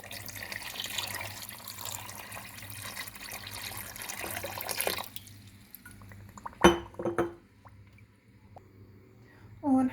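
Water pours steadily onto 2 kilograms of sugar in a pot for homemade syrup, a continuous splashing flow that stops partway, followed by a few clinks of glass and utensils close by.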